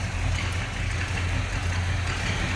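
A 1964 Ford Galaxie 500 with a tri-power engine idles low and smooth, a steady close rumble with a soft even pulse and no voices.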